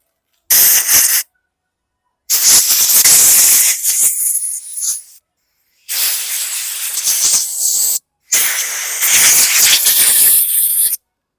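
Compressed air blasts cleaning the carburetor of a 2010 Yard Machines 22-inch push mower, four loud, close hissing bursts of varying length separated by silent gaps.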